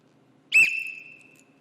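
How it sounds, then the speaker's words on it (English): A single sharp whistle blast to start a running race, loud and close, piercing at onset then trailing off over about a second. "He whistles."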